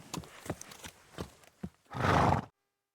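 A horse gives a loud, close whinny near the end, after several soft hoof steps and light thuds, then the sound cuts off into silence.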